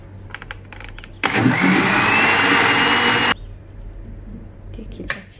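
Blender mixing serabi pancake batter in a single loud whirring burst of about two seconds, switched on abruptly and cut off sharply, with quieter clatter before and after.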